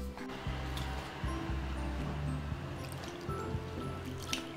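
Water poured into a bowl holding flour and crumbled brewer's yeast while mixing bread dough, a soft steady trickle and slosh with small drips, close and quiet, no voices.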